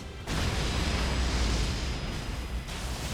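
A big slam explosion from a major DLC boss in the Elden Ring video game bursts in suddenly as a deep, roaring blast, then rumbles on in a broad, sustained crash for several seconds before abruptly cutting off, with no talking.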